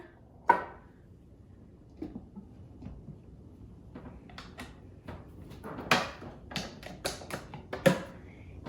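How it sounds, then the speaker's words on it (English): A series of hard clunks and taps as a slow cooker lid is set down and adjusted, sharp knocks scattered over several seconds with quiet gaps between. "then we'll just put the lid on"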